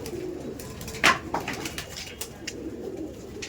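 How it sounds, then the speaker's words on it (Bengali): Madrasi flying pigeons of Gola line stock give soft, rolling coos nearby, with a brief louder flutter-like burst early on and quiet surroundings. "এটা হচ্ছে আমার গোলা লাইনের নসলের পায়রা"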